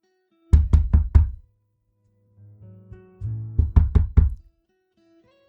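Two close, loud bursts of four sharp knocks on a door, with a quieter low rumbling sound between the sets.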